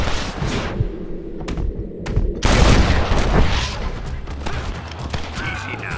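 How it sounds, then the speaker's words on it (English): Gunfire in a Red Dead Redemption 2 bandit shootout, a few sharp isolated shots followed by a heavy booming burst and rolling echoing blasts, loud and close with no talking. "Stop shooting at me!"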